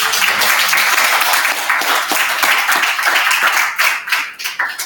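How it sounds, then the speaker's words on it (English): An audience at a startup networking event gives a big round of applause, loud continuous clapping that thins out toward the end with scattered individual claps. "Can we get a big round of applause for this"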